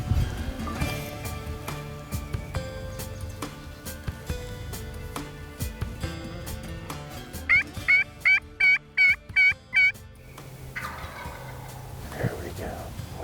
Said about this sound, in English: Finally got this gobbler to sound off. First gobble we've heard yet.